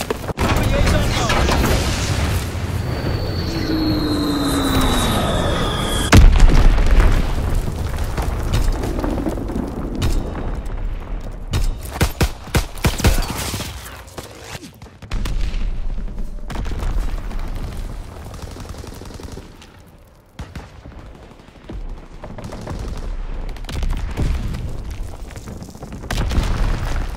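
Bombs and gunfire from a World War II combat game: booming explosions and rumbling blasts with scattered shots and whooshes, loud at first and then easing into a lower, patchy rumble of distant fighting.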